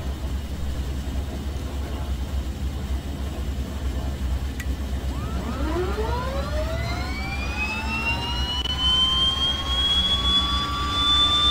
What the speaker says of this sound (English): let's get ready to start the left engine